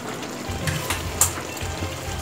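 Water is poured into a pan of cooking pork chops, a soft, steady trickle and splash with a brief sharp splash partway through, fairly quiet.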